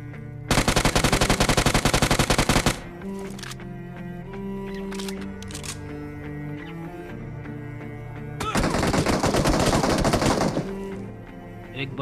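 Rapid automatic gunfire from a battle royale video game bursts loudly in two long sustained volleys, with scattered single shots and game sounds between them.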